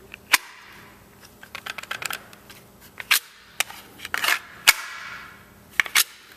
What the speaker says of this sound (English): It has that nice Kydex click.